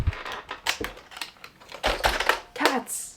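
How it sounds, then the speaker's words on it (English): Keys clack in uneven bursts on a new computer keyboard being set up at a home desk, close and fairly loud, with a few sharper taps mixed in. "I hope I like this keyboard."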